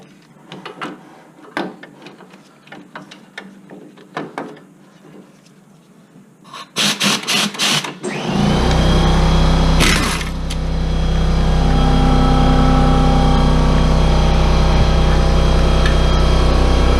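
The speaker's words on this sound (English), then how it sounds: "hook it up to the air wrench." Air impact wrench working on the CV axle of a Lincoln Navigator: a few sparse clicks and taps, then a loud, close, continuous whirring rattle that runs steadily to the end without talk.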